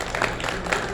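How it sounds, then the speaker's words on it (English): An audience at a Kenpo karate seminar applauds, giving a dense, steady burst of many hands clapping together that fills the room for a brief moment. "Give him a round of applause."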